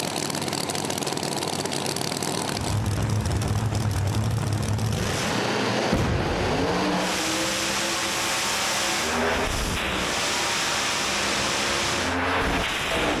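Street Outlaws No Prep Kings drag racers make a semifinal pass in Tulsa, loud engines roaring and rising in pitch as the cars launch, with crowd and track noise throughout.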